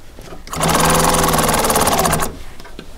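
A sewing machine stitching upholstery cushion seams runs in a single loud, rapid burst for under two seconds, starting and stopping abruptly with quieter room noise before and after.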